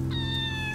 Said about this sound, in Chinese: 哦，猫咪猫咪，走，妈妈这里来。